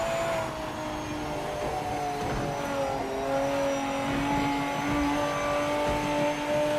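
Race car engine in Project Motor Racing 2.0 droning at a steady pitch with slight shifts in revs, a continuous mechanical whine heard alone at moderate loudness.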